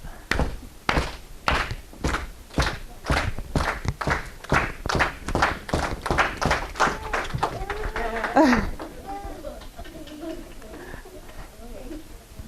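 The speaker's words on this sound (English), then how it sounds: "Everyone clap." A library audience at a Chicago White Sox Southpaw mascot visit claps together in a steady rhythm, about a dozen loud, even claps, which then give way to a voice speaking over softer background sounds.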